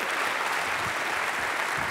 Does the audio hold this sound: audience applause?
yes